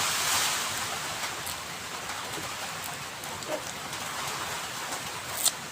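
Steady typhoon rain hisses continuously on surfaces, a dense, moderate patter with occasional louder drops and no voices.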